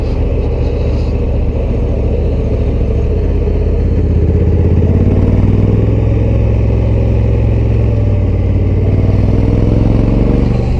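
Honda Africa Twin Adventure Sports motorcycle engine accelerating, a loud steady drone close by that builds gradually across the whole stretch with no talk.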